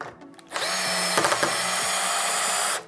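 A power drill driving a screw into wood whirs loudly and steadily for about two seconds, its pitch wavering slightly as it labors, then stops abruptly as the clutch slips; close and continuous.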